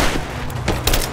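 Gunfire in the video game Rise of the Tomb Raider, a loud dense stretch of shots and booms layered over each other in a combat scene.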